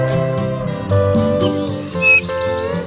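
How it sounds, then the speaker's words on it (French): Eurasian bullfinches feeding their young, with soft piping calls and chirps close by over a steady tonal background, the calls repeating irregularly. "Un balai magnifique de bouvreuils-pivoines nourrissant leurs petits."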